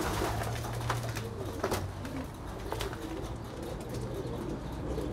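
Pigeons in a dovecote give low, repeated coos over a constant background murmur, with occasional brighter calls breaking through.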